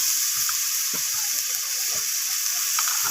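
Spices frying with tomato in a kadai, a steady bright sizzle with soft scraping and stirring clicks, close and continuous, no voices.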